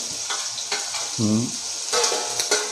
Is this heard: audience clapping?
no